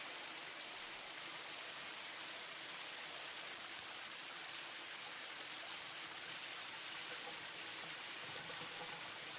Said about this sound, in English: And now it's just the running water.